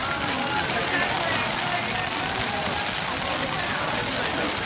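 Heavy rain pours steadily over a night sky-lantern release at Pingxi, a dense, even hiss filling the whole stretch with no let-up.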